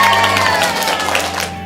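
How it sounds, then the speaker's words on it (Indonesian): A crowd applauds and cheers for participants at a letter-writing competition event in Indonesia, a steady wash of clapping and voices with tonal background music underneath, fading toward the end. "Tepuk tangan buat semua."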